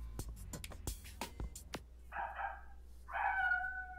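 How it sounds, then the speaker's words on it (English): A dog barks somewhere in the background, giving two short harmonic bursts after a stretch of scattered knocks and clicks. The barks are moderately loud and rough-edged, with no talk over them. "I just realized you were talking about that dog in the background."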